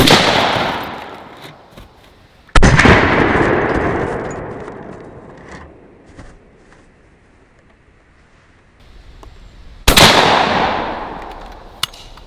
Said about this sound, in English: Birdshot out of the 12 gauge.